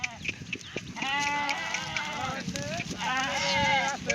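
Goats bleat in wavering, nasal cries, two longer calls standing out, with voices and background chatter around them.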